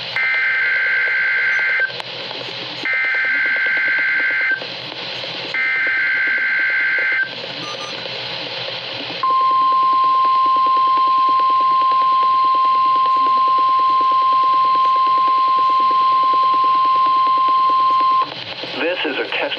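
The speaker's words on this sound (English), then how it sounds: "This is a test of the NOAA Weather Radio's warning device. The preceding signal was a test of the weather radio station's public warning system." A NOAA Weather Radio station's weekly test sends loud, clipped data bursts in three short repeated blasts, followed by a long, steady, piercing warning alert tone.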